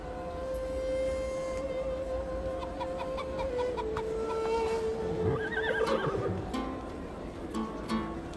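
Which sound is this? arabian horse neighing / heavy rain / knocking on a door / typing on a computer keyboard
arabian horse neighing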